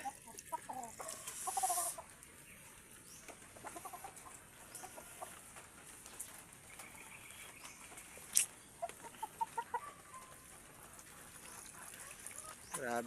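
Chickens clucking and calling intermittently at a moderate distance after feeding, with a couple of louder squawks and steady background noise of heavy rain.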